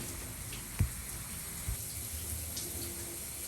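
Water runs steadily from a tap during a body-wash shower routine, a continuous hiss and splash with a couple of brief knocks, no talking.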